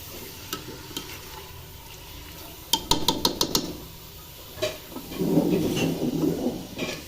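Garlic frying in a pot for kunna gosht, a soft steady sizzle broken by a quick run of sharp spoon clicks against the metal and then a louder scraping stir near the end, close up, with no talk.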